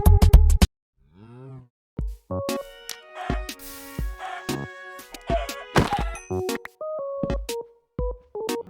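Blocky cows in Minecraft give several short mooing calls with sharp hits and thunks in between, close and clear, with no talking.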